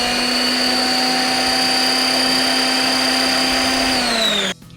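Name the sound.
blender mixing the sauce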